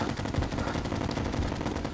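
Dense rapid gunfire in Terraria 1.3 during a crowded boss-style wave, a continuous rattling barrage of shots at moderate level with no talking.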